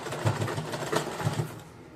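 A home sewing machine stitching at close range makes a quick, uneven run of mechanical whirring and clicking bursts that fades toward the end.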